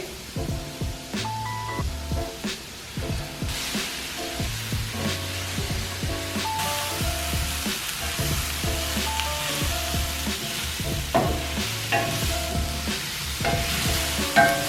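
Bok choy frying in a pan sizzles steadily while being stirred, with repeated scrapes and knocks of the utensil, close and continuous, alongside soft background music.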